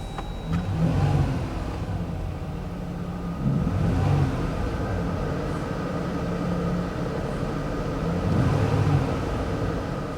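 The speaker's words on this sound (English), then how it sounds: "We're obviously driving in the Jeep, and you can hear what it sounds like." A Jeep Gladiator fitted with an aftermarket intake pulls away from a start, heard from inside: its engine surges in several rising bursts with short lulls between them, a steady low rumble underneath and no voices.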